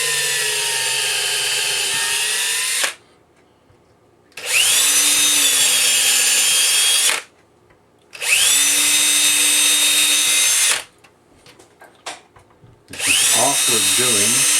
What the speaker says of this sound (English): There's the screws that I'll be using in the tweeters. So I'll go ahead and drill those carefully.